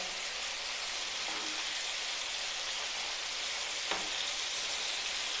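Chicken masala wings frying in a pan, a steady close hiss and sizzle of hot oil running evenly throughout with a few faint crackles.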